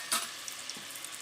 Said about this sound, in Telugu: మన రొయ్యలు ముందుగా ఒకసారి అయితే కొంచెం వేపుకొని పెట్టుకుందాం సైడ్ని.